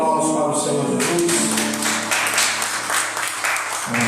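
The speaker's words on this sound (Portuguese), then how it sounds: "Uma salva de palmas para o Senhor Jesus." Church congregation applauding during a worship service, a dense steady wash of many hands clapping that fills the whole clip, with faint voices mixed in underneath.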